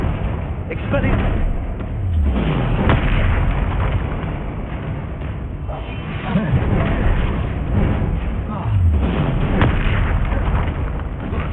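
Confringo blasting spell in the video game Hogwarts Legacy, several heavy booming explosions bursting at intervals over continuous rumbling game noise and a voice.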